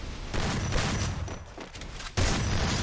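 In a 1 vs 1 match of an online shooter video game, gunfire rings out in a short burst, then goes quiet before a sharp, louder shot near the end, all close and with no talk.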